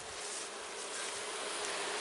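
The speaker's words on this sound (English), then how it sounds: "You want to go see the pile of bees in here?" A pile of honeybees freshly shaken from a bee package, giving a dense, continuous buzz of many wings heard up close and unbroken throughout.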